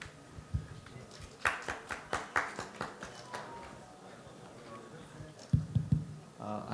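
Scattered clapping from a small audience at a conference session, a short burst of separate hand claps that thins out and gives way to speech.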